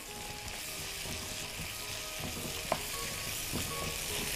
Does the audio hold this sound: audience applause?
no